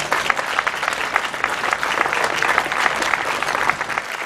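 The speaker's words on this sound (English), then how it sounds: "Please give our sponsors a well-deserved round of applause." A festival crowd at the opening ceremonies of a town celebration gives a round of applause for sponsors, thick continuous clapping from many hands with no talking over it.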